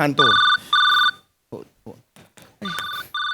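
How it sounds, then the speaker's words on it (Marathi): A mobile phone rings with a repeated electronic tone in bursts, loud and close, with people talking in between the rings. "माझा फोन आहे, मी माझं बघेन."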